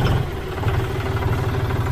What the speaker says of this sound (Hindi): तो 700 RPM पर ट्रैक्टर को स्टार्ट करेंगे,